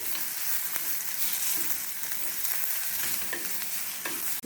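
Ingredients for white sauce pasta cook gently in a pan over a low flame, giving a steady, soft, close sizzle with faint stirring scrapes throughout and no voices.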